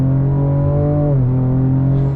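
A 2023 Ford Ranger Raptor pickup accelerating hard at full throttle from about 40 km/h, its engine a loud, steady drone that climbs in pitch, dips briefly at a gear change, then keeps pulling, heard close from inside the cab with no talking.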